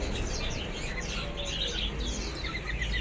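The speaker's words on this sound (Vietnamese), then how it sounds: "Đây là bồ câu Thái." In a bird shop, birds chirp and call continuously over a dense, noisy background, with a Thai pigeon's cooing among them.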